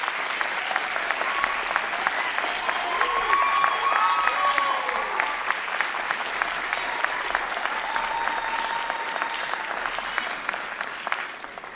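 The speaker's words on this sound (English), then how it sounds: "Please give them a round of applause." Audience clapping for a graduating pharmacy class at a white coat ceremony, a long even round of applause with a few cheers and voices rising through it.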